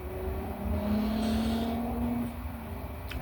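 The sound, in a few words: motorcycle on highway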